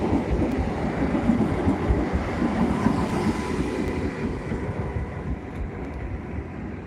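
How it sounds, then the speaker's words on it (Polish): A Koleje Dolnośląskie regional train on the line to Lichków in Poland rumbles past, a steady, loud broadband roar of wheels and carriages that eases slightly toward the end, with no voices. "Ja często jeżdżę tym pociągiem do Lichkowa."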